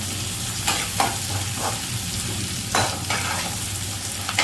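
Mushroom manchurian ingredients sautéed with a little salt in a pan give a steady close sizzle, broken by several short scraping stirs of a spoon through the pan; no one speaks.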